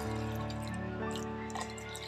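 Cold water from a fridge being poured into a mixer jar holding cream, a short close splashing trickle over a constant steady hum, with no voices.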